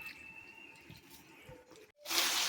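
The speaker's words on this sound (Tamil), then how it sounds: "நல்லா ஹை ஃப்ளேமில் ஒரு ரெண்டு நிமிஷம் இதை நல்லா வதக்கி விடலாம்" Chicken pieces sautéing in a pan over a high flame for a Tamil-style chicken fry, giving a steady soft sizzle that jumps to a loud, bright hiss near the end; no talking.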